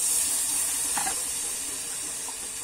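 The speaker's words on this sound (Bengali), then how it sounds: "এখানে কিন্তু আমি একটু জল দিয়ে দিচ্ছি, মশলা ধোয়া জলটা" Spice-rinsing water poured into spices frying in a pan gives a loud, steady steam hiss that slowly fades, with a few brief bubbling splutters.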